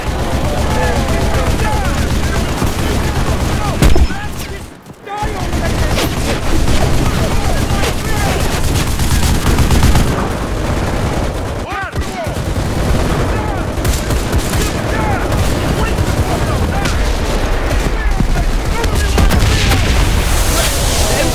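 Machine gun fire from the World War II shooter Enlisted, in a D-Day zombie mode, rattles in dense sustained bursts through most of the stretch, with booms and other gunfire mixed in and voices talking over it.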